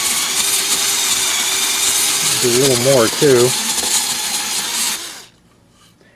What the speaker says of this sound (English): And now this is just an old 12-volt drill